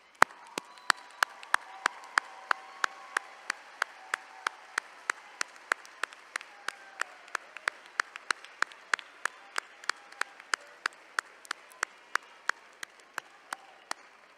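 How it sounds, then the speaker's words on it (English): Applause from a commencement audience in a theater, dominated by one loud, close pair of hands clapping at a steady, even pace over a faint wash of wider clapping. "join me in a round of applause for all the guests who are here today."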